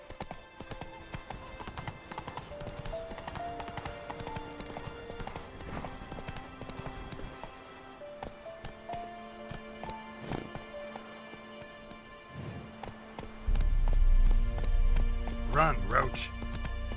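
A horse gallops in The Witcher 3 video game, rhythmic clip-clop hooves running steadily under game music, with a louder burst of movement near the end and a voice speaking.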